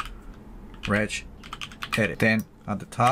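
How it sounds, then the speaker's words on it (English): Computer keyboard keys clatter in quick bursts under a voice giving instructions while editing the Windows registry, with short pauses between the clicks. "typing"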